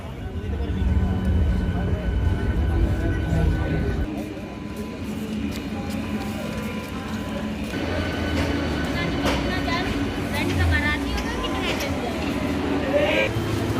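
Steady rumbling noise inside a moving train, continuous and fairly loud, with a deep low roar, rattling and a brief dip in level partway through. No speech is heard.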